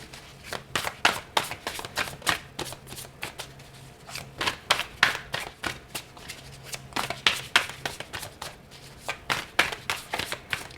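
Tarot cards being shuffled close up, a steady series of quick papery riffles and slaps repeating for several seconds with no talk over them.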